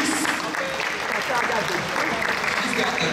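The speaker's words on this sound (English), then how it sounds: "Please give Chantal a round of applause." Crowd applause at a voguing ball, continuous clapping mixed with crowd noise and voices, a busy, fairly loud din that holds steady throughout.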